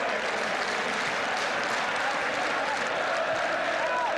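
A football stadium crowd roars and cheers at a Chelsea match, a broad, continuous wall of noise from the terraces with no break.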